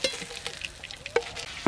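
Fresh freshwater prawns fry in a pan with a light sizzle, punctuated by a few sharp clicks and taps of a utensil over a short stretch, no talking.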